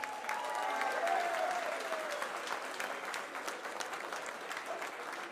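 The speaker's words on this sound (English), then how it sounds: "A big round of applause for these people." A crowd at a Get-Out-The-Vote campaign stop in Beaumont, Texas, gives a sustained round of applause, dense and steady, slowly fading over several seconds.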